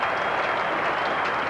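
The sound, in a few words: crowd applauding a cricket stroke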